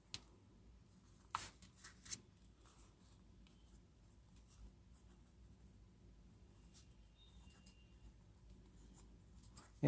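A vintage Parker 45 fountain pen writes on paper in a quiet room, a faint, soft scratching of the nib with a few small taps and clicks scattered through, close and alone.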